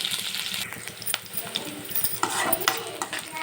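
Vegetables fry with salt in a pan, a soft sizzle broken by repeated scraping and clinking stirs of a spoon against the metal, fairly close and irregular.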